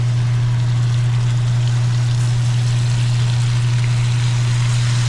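Hot water runs over ackee in a Jamaican restaurant kitchen in Toronto's Little Jamaica, a loud, steady rushing stream over a constant low hum, with no talking.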